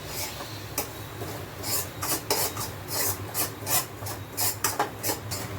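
Flour is stirred into hot ghee in a pan, giving repeated dry scraping and rasping strokes in an uneven rhythm, close and fairly quiet, with no talk.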